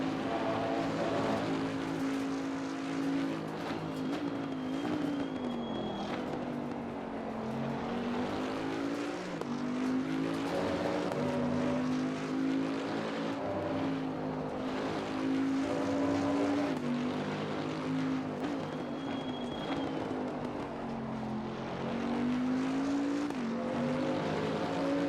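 Bentley GT3 race car engine in Assetto Corsa Competizione, lapping the Kyalami circuit: a loud, continuous engine drone whose pitch climbs and drops through gear changes, with no talking.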